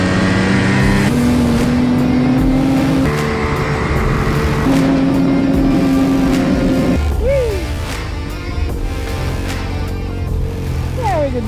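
A snowmobile engine revs loudly and close, its pitch climbing and dropping in several surges with a sharp whine near the end, the roar continuous throughout.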